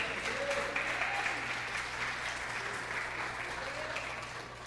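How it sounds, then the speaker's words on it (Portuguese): A church congregation applauds together during a worship service, a steady, sustained wash of clapping that holds even throughout and eases off slightly at the end, with a faint low hum underneath. "Você pode aplaudir o Senhor mais uma vez, irmão?"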